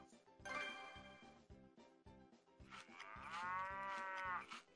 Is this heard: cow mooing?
yes